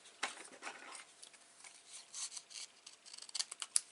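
Scissors snipping and trimming patterned craft paper for a mini recipe box, a series of faint, close, crisp cuts with small rustles between them, no talking.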